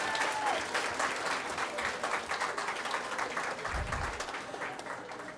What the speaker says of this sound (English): Let's give another beautiful. round of applause